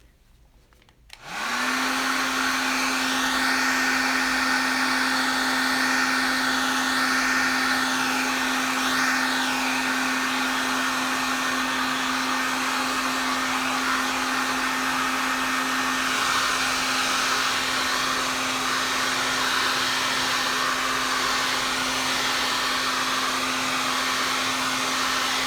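A hair dryer switches on after a brief quiet moment and blows at a steady, loud whir over a watercolour painting for about twenty-five seconds, with no talking.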